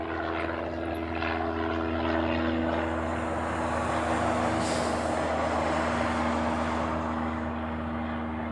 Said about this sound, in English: So this 717 came in from Lehue.